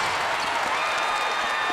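Sustained roar of a basketball arena crowd on its feet during a one-point NCAA women's Elite Eight tournament game between UConn and NC State, a dense steady wash of cheering and clapping with no break.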